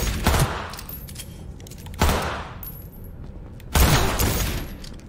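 Gunfire from the Cyberpunk 2077 video game: three sharp, loud bursts roughly two seconds apart, each ringing out with a decaying tail, with no talking.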